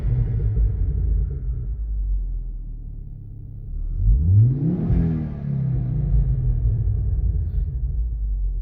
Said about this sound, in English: Let's give it a little rev. Let's hear.